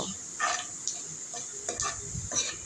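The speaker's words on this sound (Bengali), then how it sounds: "এখন আমি আরও কিছু সময় নেড়ে চেড়ে নিব আমি পেঁয়াজটাকে একদম ব্রাউন কালার করে নেব" Onions frying with panch phoron and cumin, steady soft sizzle under intermittent scraping stirs of a spoon against the pan, faint and close.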